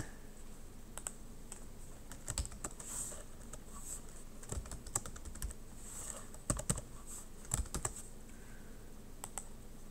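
Typing on a computer keyboard during Eclipse software work, with steady rapid key clicks and occasional heavier keystroke bursts, close and fairly quiet, with no talking.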